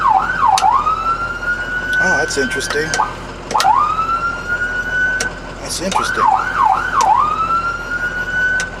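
An emergency vehicle siren switching between wail and yelp tones, rising and falling in long wails, broken by quick yelping warbles, loud and close, with someone talking briefly over it.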